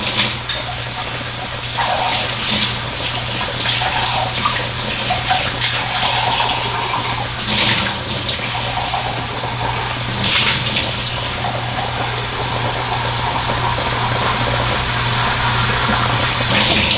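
Water pours steadily into a gumbo pot, a sustained gushing splash with slight swells in force, over a constant low hum and no voices.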